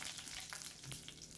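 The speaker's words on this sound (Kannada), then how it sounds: "ಎಲ್ಲನೂ ಹಾಕ್ಕೊಂಡು ಚೆನ್ನಾಗಿ ಎಣ್ಣೆಯಲ್ಲಿ ಒಂದು ಸತಿ ಫ್ರೈ ಮಾಡ್ಕೊಳ್ಳಿ" Garlic and dried red chillies fry in hot oil, giving a soft, close crackle with scattered small pops over a brief moment, fairly quiet and with no talking.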